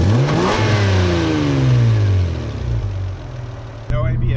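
Close, loud revving of a 1991 Toyota Cressida's 3-liter inline-six engine, with the pitch climbing and then easing back toward idle, and a brief sharp knock near the end.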